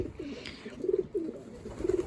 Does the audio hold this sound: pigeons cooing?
yes